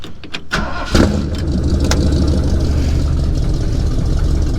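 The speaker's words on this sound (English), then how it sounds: "And it starts right up." A 1964 Ford F100 pickup with a couple of exhaust leaks cranks in a few short bursts, then catches and settles into a steady, rumbling idle, close and loud.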